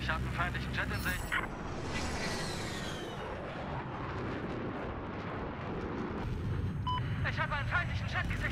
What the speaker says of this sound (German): Augen auf, ich habe einen feindlichen Jet in Sicht.